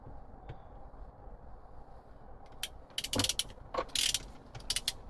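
Torque wrench ratcheting while tightening a steering wheel bolt on a Tesla Model Y, with quiet creaks followed by sharp, close clicking bursts in quick irregular runs.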